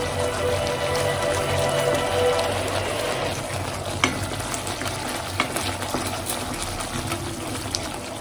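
An egg fries over low heat in a pan seasoned with chilli paste, coriander and cumin, giving a steady sizzle while a utensil stirs and scrapes, with occasional sharp clicks against the pan.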